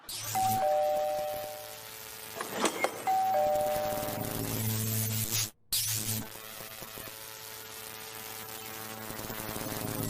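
An electronic doorbell that gives electric shocks chimes twice in a two-tone pattern over a buzzing electrical hum, followed by a brief cutout and continued static buzz.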